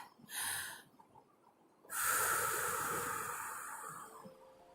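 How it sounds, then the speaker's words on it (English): A deep breath: a short sharp inhale, a pause, then a long airy exhale that fades slowly, close and quiet with no talk over it. "Take a deep breath."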